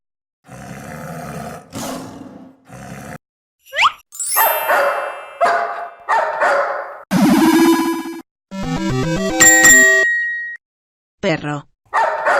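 Loud dog barking within a chaotic jumble of roars, growls and other animal calls, bursts coming in uneven clusters separated by short silences.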